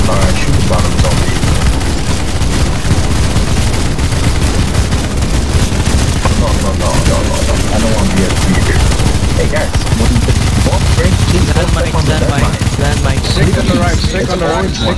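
Continuous heavy gunfire from CS:GO Zombie Escape on the Best Korea map, many players firing at a zombie at once, loud and unbroken, with players talking faintly beneath the shooting.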